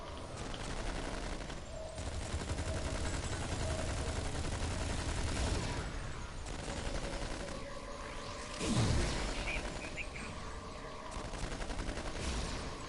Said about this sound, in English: I'm in the 28th century in this game, and I'm using a Tommy gun